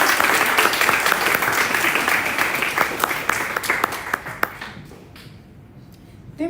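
A meetup audience at a Tableau user group gathering applauds a speaker, the crowd clapping thinning into a few scattered, distinct claps before fading to near quiet.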